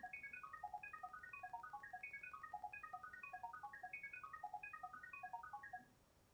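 A phone speaker plays a rapid, repeating sequence of chirping electronic data tones to pair with a Google OnHub wireless router, steady pulsing bursts for about six seconds in a quiet room, then stopping.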